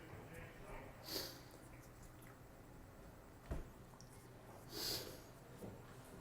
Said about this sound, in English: if anybody hears me sniffling over the air